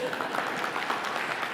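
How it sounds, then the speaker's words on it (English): An audience applauds briefly at a live political event, a short burst of moderate clapping with no talk over it. "applaud for being young"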